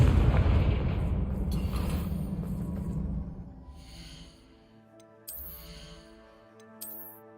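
A Confringo blasting spell in Hogwarts Legacy erupts in a loud, rumbling explosion that fades over a few seconds, followed by quieter game tones and a couple of sharp bright chimes.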